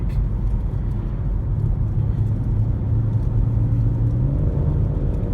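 BMW M140i Shadow Edition engine pulling hard while driving, a steady low rumbling drone with a rising tone near the end, no talk over it.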